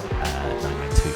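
A Porsche 992 Cup car driven at Magny-Cours in a racing simulator, a loud close engine drone with sharp tire squeal and brief skidding bursts.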